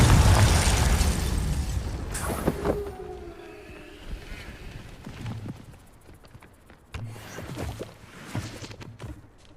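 A Confringo spell explosion in the video game Hogwarts Legacy: a loud burst at the start that decays into rumbling debris, followed by quieter scattered thuds and pops.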